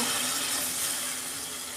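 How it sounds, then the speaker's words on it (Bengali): Water poured into a cooking pan, a steady broadband rushing and splashing that runs evenly for the whole short stretch with no voices. "আমি জল দিয়ে দিচ্ছি পরিমাণ মতো।"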